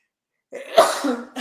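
A single sharp sneeze with a breathy intake just before it, close by, followed by a brief exhale.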